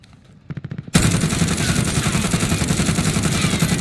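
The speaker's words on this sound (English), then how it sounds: "here we have a Krig 6 with no attachments, and this is me not doing anything to control the recoil" A Krig 6 assault rifle with no attachments fires full auto in Warzone, loud and close. A few quick lighter clicks come first, then one continuous rapid burst of shots that runs to the end.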